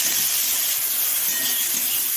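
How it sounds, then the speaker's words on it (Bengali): Chopped onion hitting hot oil, after whole spices, in a pan for mutton keema ghugni gives a steady, even sizzle and hiss, close and moderately loud with no talk. "দিয়ে দিলাম কুচানো পেঁয়াজ"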